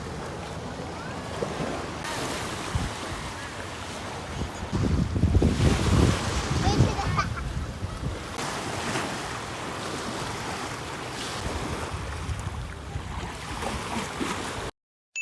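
Sea waves wash in steadily at the beach, a broad roaring surf with wind buffeting the microphone, swelling louder midway, while a voice speaks briefly.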